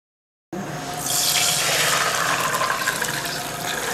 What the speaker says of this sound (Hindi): हमने पानी जो है ना वो छान लिया है।